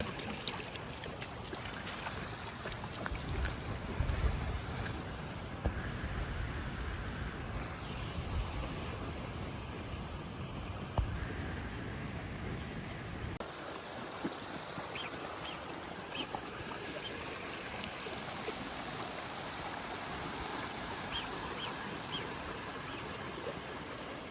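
Waterfall like a steep, fast-flowing stream, a dense, continuous rushing roar heard steadily throughout, fairly close, with no talking.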